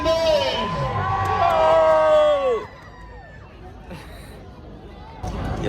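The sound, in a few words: crowd cheering as actor Kiccha Sudeep arrives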